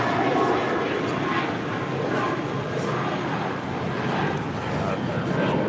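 A Spirit Airlines Airbus A320 departing for Austin, its engines a steady, broadband roar that stays loud and even throughout, with no clear rise or fall.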